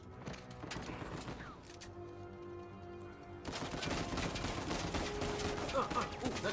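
Game gunfire from Uncharted 4 crackles in dense rapid bursts over a busy soundtrack, the shooting growing louder and fuller halfway through.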